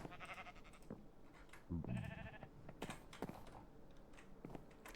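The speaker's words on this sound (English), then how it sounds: "Definitely sounded like a cow." A cow in the Minecraft modpack All The Mods 10 gives one short, low moo midway, set among quiet game sounds and keyboard clicks.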